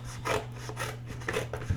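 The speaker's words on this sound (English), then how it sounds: "So I'm cutting my box here." Scissors cut through a sheet of cardboard in a few rough, rasping strokes, close by and moderately loud, with a steady low hum underneath.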